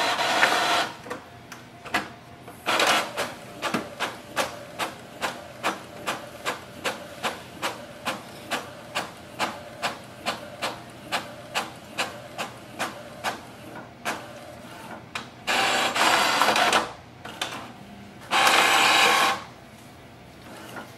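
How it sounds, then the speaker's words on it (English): Epson EcoTank ET-4850 printer printing a document: a steady run of sharp mechanical clatters in quick rhythm, broken by longer whirring bursts of paper feed near the end, loud and close with no talk. "So it has done the printing."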